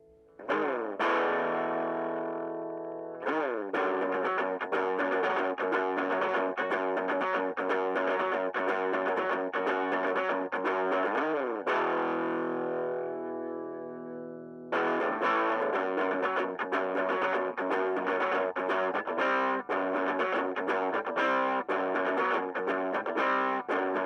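An electric guitar plays through a Marshall MS-4 mini amp set to half distortion, loud, gritty sustained chords and picked notes ringing continuously, with brief pauses between phrases.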